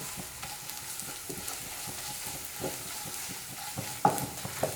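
Spice mix for chicken liver fry is stirred in a pan over low flame, with a faint steady sizzle and soft repeated scrapes of the spoon, no voices.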